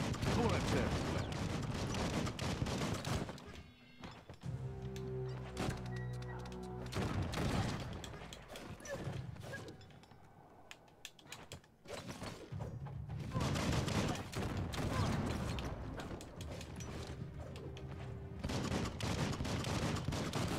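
Heavy video game gunfire roars in dense, sustained volleys with booming bursts, fading briefly in the middle before the shooting picks up again, loud and chaotic throughout.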